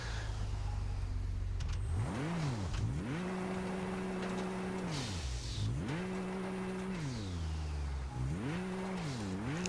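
Ferrari engine in Test Drive Unlimited Solar Crown video game revving up through the gears in three repeated cycles, each climbing sharply, holding a high steady whine, then dropping as it shifts, loud and continuous.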